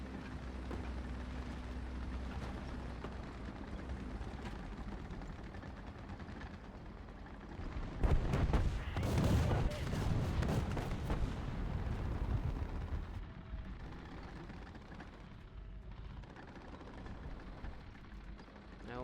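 Tank cannon fire and explosions in the War Thunder video game, a heavy burst of booming shots and blasts building mid-clip over continuous rumbling engine and battle noise, with no talking.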